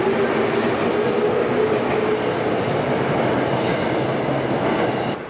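A 1991 Tokyo commuter train near Shinbashi Station gives a loud, continuous rumble with wheel and carriage noise, heard from on board or close by and fading slightly at the end.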